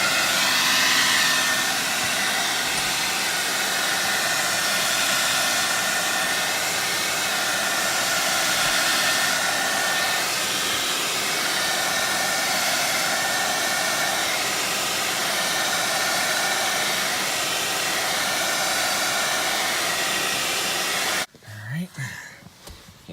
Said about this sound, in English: now don't make fun of me for my pink hair dryer there